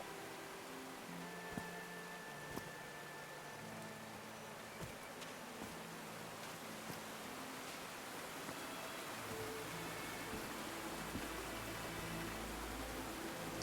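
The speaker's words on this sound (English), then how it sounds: "Okay, still raining, but better." Rain falls steadily in the video game Call of the Sea, a soft continuous hiss of dense patter with faint scattered ticks, quiet and unbroken throughout.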